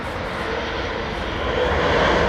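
A fixed-wing airliner's engines roar steadily at London Heathrow Airport as it taxis, a broad dense rumble that grows slightly louder over a couple of seconds.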